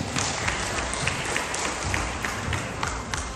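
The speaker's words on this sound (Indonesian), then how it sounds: "Tepuk tangan dulu." A crowd applauding at a Halal Bi Halal alumni gathering of SMAN 5 class of 87, a dense, even wash of clapping that holds steady throughout.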